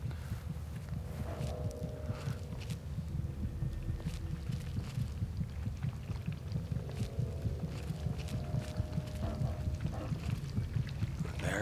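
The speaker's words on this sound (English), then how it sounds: "Oh, I hear the heart beating." A beating heart in the Fallout 3 video game thumps in a steady, continuous low pulse throughout, loud and close with no talking over it.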